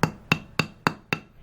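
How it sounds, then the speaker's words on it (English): Five evenly spaced sharp metallic taps from a small hammer striking a watch band pin, close and distinct, each with a brief ringing decay, no talking. "Couple little taps with a hammer."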